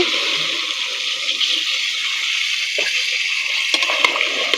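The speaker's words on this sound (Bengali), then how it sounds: "দিয়ে দেবো পানি" Water is poured into a pan of cooking beans and potatoes, a steady splashing, hissing pour lasting several seconds, close and fairly loud, with small clinks near the end.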